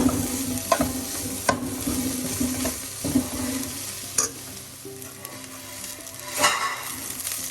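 Violet cabbage thoran with grated coconut stirred in a pan, the spoon scraping and knocking in repeated strokes over a constant close sizzle, with nobody speaking.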